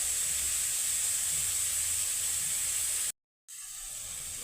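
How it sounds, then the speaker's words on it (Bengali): Prawns frying in hot oil, a steady bright sizzling hiss close by, cutting out briefly for a moment before resuming just as strong. "এবার চিংড়ি মাছগুলো আমি ভেজে দিচ্ছি।"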